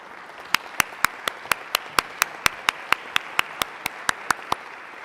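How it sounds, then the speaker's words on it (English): Sharp, evenly spaced hand claps ring out one after another over a quiet room during a council meeting, a slow, steady rhythm of about four claps per second. "if you don't mind standing so we can give you a round of applause."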